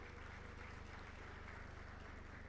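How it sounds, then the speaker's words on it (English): Audience applause following a speech at a ladies' business organization event, a steady wash of clapping sustained evenly throughout at a fairly low level, with no talking over it. "they deserve a huge round of applause from all of you."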